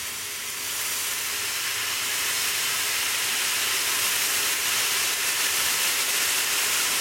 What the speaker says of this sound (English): Now, with the veggies, I'm going to put water on them to steam them.